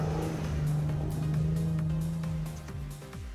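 A Toyota Tacoma's engine drones steadily in deep snow, holding a sustained rev with a strong low hum, then easing off and shifting pitch near the end; loud and close, no voices.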